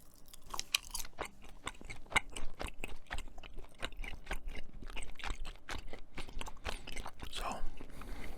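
Close, wet chewing of bubblegum, with soft crunching and smacking bites in an irregular steady rhythm, intimate and alone with no talk.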